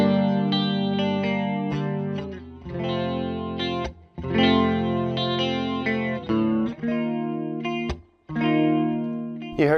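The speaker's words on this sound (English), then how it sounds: "heard chorus, right?" Electric guitar played through a chorus effect in the effects loop of a Fender Bassman Tonemaster amp, a shimmering, slightly detuned tone ringing out in loud strummed chords with short gaps between phrases, with no voices.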